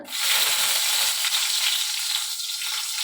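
Dried red chillies crackle and sizzle in hot coconut oil with popped mustard seeds, a steady close-up frying hiss running unbroken throughout.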